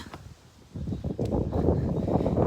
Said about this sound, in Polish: Straszny dzisiaj wiatr